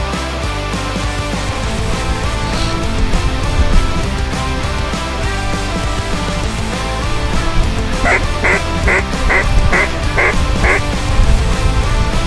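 Ducks quack during a Saskatchewan waterfowl hunt over decoys: a quick run of about six loud, evenly spaced quacks near the end, set against a dense, steady background roar.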